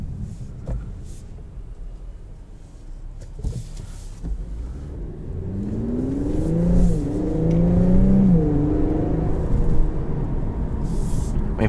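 An Infiniti Q50 Red Sport's 3-liter twin-turbo V6 rumbles low, then builds into a rising, climbing engine note as the car accelerates, heard from inside the cabin.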